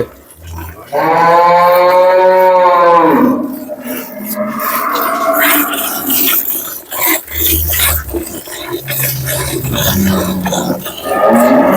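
Two dairy cows brought from Gazipur, Dhaka, give a long, loud, close moo, then quieter lowing and a second deep call follow amid some shuffling.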